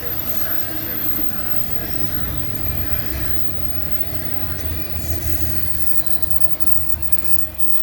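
A long BNSF freight train of double-stack and piggyback cars rumbles past nearby in La Plata, Missouri, with a steady roar, clattering wheels and faint squeals, and a voice talks over it.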